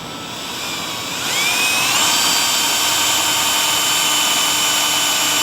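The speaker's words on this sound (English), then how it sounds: "So now I'm gonna start drilling, and we're gonna drill the front and the back side out to 1/2 inch." A power drill bores a hole out to 1/2 inch through the frame of a Ford Super Duty truck while fitting a traction bar kit, a loud steady high whine that rises in pitch and then holds, close and without speech.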